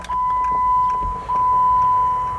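Small dash air damper in a Jeep JK opening after the ignition key is turned, a steady close motor whir with a faint electronic tone, briefly dipping midway before resuming.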